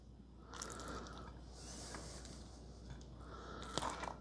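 Soft squishing and wet scraping as a creamy spaghetti bake mixture is spread into a baking pan, faint and close, with a few small clinks of a utensil near the end.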